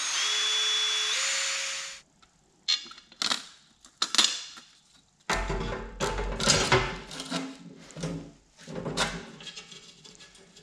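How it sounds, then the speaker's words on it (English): A power drill punches holes through a poly edge for a snow blade: a steady whine of the spinning bit comes first, then a pause, then a series of loud, choppy grinding bursts as it cuts into the plastic. "I'm gonna punch these out with a drill"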